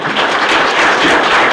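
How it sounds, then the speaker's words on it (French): A room applauds panelists after a discussion, a loud, close, dense wash of clapping from many hands, steady throughout. "On va applaudir pour nos panélistes."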